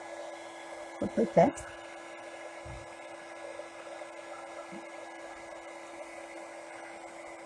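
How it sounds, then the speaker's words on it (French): A heat tool blows steadily to melt embossing powder on a handmade bookmark, a constant airy whir running throughout at moderate level, with a few brief voiced words near the start. "Je chauffe ma poudre comme d'habitude pour la faire fondre."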